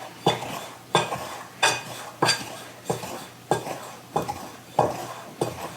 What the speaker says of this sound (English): I'm just cutting in this butter into the flour real quick